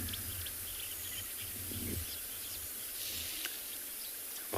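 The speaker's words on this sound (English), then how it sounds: "It's wonderful just to sit and listen to the lovely sounds of Chitwa, all the birds calling." Birds call at sunrise on a safari at Chitwa: faint, scattered chirps and short calls drift over a quiet background with a steady insect hum. The calls sound distant, and no one speaks.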